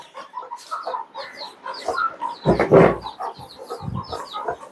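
Chickens kept in a cage on a balcony cluck and murmur close by, with a brief louder squawk midway and soft rustling and shuffling between calls.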